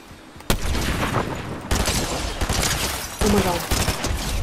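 Rapid bursts of gunfire in a Fortnite match, sharp cracking volleys that repeat over several seconds, loud and close.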